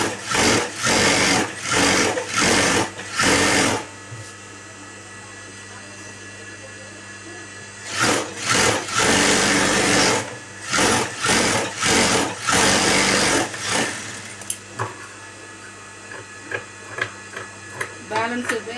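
A sewing machine stitches a lining onto blouse fabric in several close, loud runs of rapid stitching, separated by pauses and shorter bursts, while someone speaks at times between the runs.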